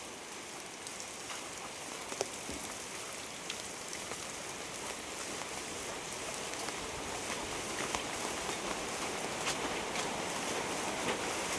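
Steady rain falls on surfaces outdoors in a bamboo grove area, a dense even patter with scattered sharper drops, continuous and moderately close with no voices.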